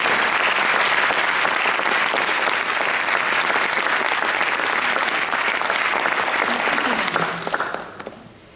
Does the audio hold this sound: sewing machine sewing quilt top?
no